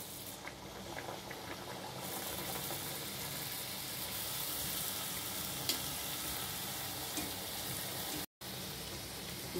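Luchi fry in hot oil with a continuous, even bubbling hiss that holds steady throughout, pausing briefly near the end before resuming.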